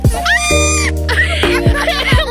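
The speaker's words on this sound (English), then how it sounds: "I want a pet goat." A goat gives several loud, wavering bleats in quick succession, close to the listener and with no other sound.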